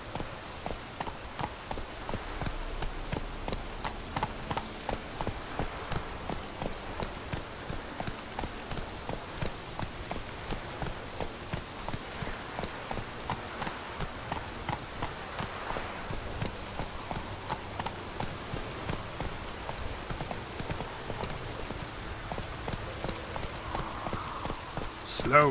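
A horse gallops through rain in The Witcher 3, its hooves beating a steady, even rhythm for the whole stretch over a constant hiss of falling rain.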